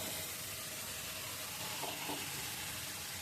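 Chicken pieces sizzle steadily in hot oil with an onion-garlic gravy in a pan, a continuous soft frying hiss throughout with no voices.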